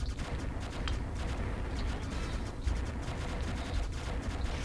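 Constant dense gunfire and bullet spray from a shoot 'em up arcade game on a SEGA Astro City Mini V console, a continuous crackling barrage with no pauses.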